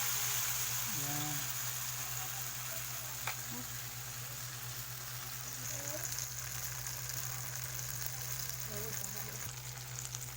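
Tortang talong, an eggplant omelette, fries in a pan with a steady, close crackling sizzle, continuous and even, while a voice talks faintly now and then.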